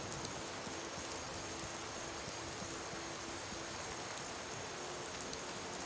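Steady rain pours down in the Skyrim game world, a constant dense hiss of falling drops spread evenly across the whole stretch with no voices, a continuous wash amid cloud and fog.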